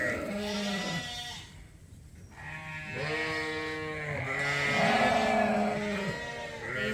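Sheep and young January lambs bleat in a field, several overlapping calls of different pitches following one another closely and filling the scene, with no clear talking.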